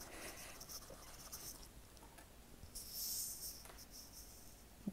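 A pen scratching across paper while figures are copied out neatly in a household budget envelope, heard as soft, close, continuous scratching strokes with a few brief louder moments.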